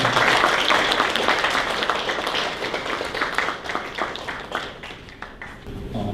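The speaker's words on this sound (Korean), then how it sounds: "큰 박수 부탁드리겠습니다." Audience at a Busan research-institute business council meeting gives a big round of applause, a dense wash of many hands clapping that fades gradually toward the end, with no talking over it.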